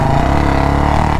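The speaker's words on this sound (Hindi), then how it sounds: "शॉर्ट पोटल की आवाज़ देखो कितनी सुंदर आ रही है यार" Motorcycle engine, apparently a Bullet, running through a short round-bend exhaust pipe with no mesh, giving a loud, steady, deep thumping idle with even low pulses throughout, close by and alone.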